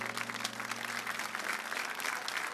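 A church congregation breaks into sustained applause, a dense, even wash of many hands clapping continuously and fairly close, with no voices over it.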